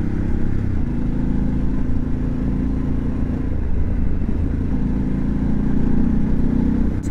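A Harley-Davidson Pan America 1250 motorcycle rides at an easy pace along a gravel road, its engine rumbling steadily with low road and wind noise throughout, with no talk heard.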